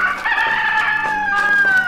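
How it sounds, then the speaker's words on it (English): A played recording of a farmyard, with a rooster crowing loudly and steadily through the whole stretch over a faint background of clucking fowl. "Now, imagine you're listening to a farmyard."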